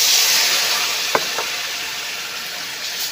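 Water poured into a hot pan of curry gives a steady, loud hiss of steam that runs throughout, with a couple of brief knocks near the middle.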